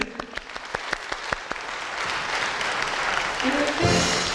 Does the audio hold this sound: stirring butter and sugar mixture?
no